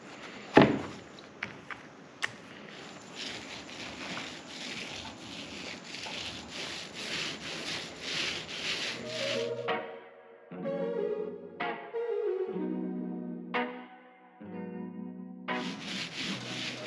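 Wood stain being rubbed by hand onto the roof of a custom truck camper built for an F-150, a steady brushing scrub through the first half, then shorter rubbing strokes with gaps, fairly close.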